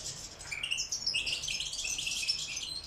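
Goldfinches chirp in an aviary with rapid, high twittering calls, fairly faint and continuous, over a low background hum.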